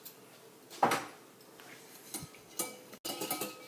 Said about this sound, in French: Puis on va remuer avec un fouet.